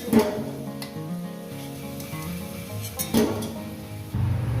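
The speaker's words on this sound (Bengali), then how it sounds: "গরম মশলা ফোড়ন দিলাম" Whole garam masala tempering sizzles in hot oil in a pan where potatoes were just fried, a steady close crackle with a sharp burst near the start, another near three seconds and a louder rise at the end.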